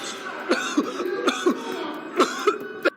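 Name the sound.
coughing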